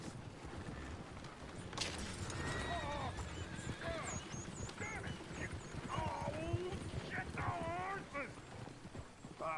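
In Red Dead Redemption 2, a horse whinnies several times amid clopping hooves and quacking ducks, with people talking in the background throughout.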